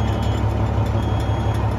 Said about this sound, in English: We're going to give it a cold start, maybe.